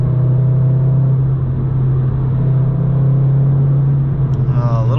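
A Volkswagen MK7 Golf R with a Nameless Performance catback exhaust drones loudly and steadily in traffic, a deep constant rumble that holds nearly the whole time with a slight fluctuation near the end.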